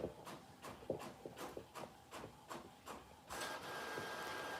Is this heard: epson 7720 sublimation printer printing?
yes